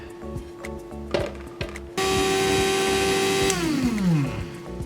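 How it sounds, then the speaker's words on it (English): An electric grinder blitzes spice powder and herbs for KFC-style fried chicken, starting abruptly after faint handling noises into a loud, steady motor whine that holds for about a second and a half, then winds down with a falling pitch. "I'm trying to grind it as fine as possible."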